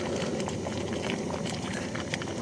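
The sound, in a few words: dinner bubbling while cooking at wild camp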